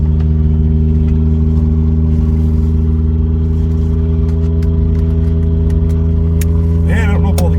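A 1986 Toyota Tercel DLX on its first test drive, its engine humming with a loud, steady, low drone from start to finish. Light clatter ticks over the drone, and a voice briefly joins near the end.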